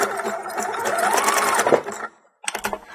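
A sewing machine runs in a close, steady rattling burst while backstitching straps onto a bandeau, stops briefly, then starts again with a short stitching spurt.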